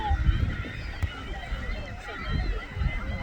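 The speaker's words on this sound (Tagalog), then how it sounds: "ibon." Waterbirds, goose-like, call with honking cries at Hasse Lake in Alberta's Parkland County, heard at moderate distance beneath people chatting nearby in the open air.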